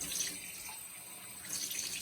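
Tap water runs into a container beside a whiskey still, a close hissing splash that swells, eases off in the middle, then strengthens again, with no one speaking.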